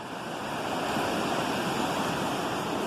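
Waves washing onto a sandy shoreline, a steady broad hiss of surf that stays even and fairly loud throughout, with no voices.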